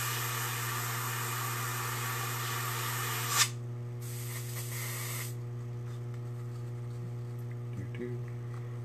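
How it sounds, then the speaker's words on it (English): An airbrush sprays paint in a garage, hissing steadily over a constant electrical hum for about three seconds, then stops with a small click, with a few brief bursts after that. "so I can just shoot paint out in the open there like that"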